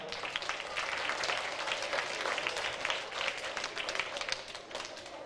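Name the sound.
applause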